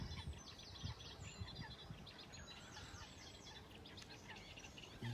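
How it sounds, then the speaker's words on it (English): Geese calling outdoors on a quiet morning, faint distant honking and chirping cries repeated over soft ambient background. "Listen to the geese there, crying."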